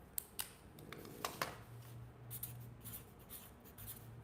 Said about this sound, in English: I'll write it down here.